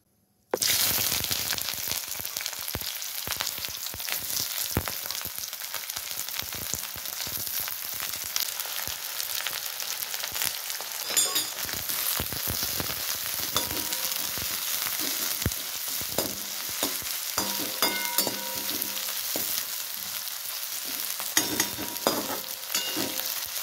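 Sliced onions frying in hot oil for a jackfruit curry, giving a steady, close, continuous sizzle with occasional stirring scrapes and clinks throughout, no talking.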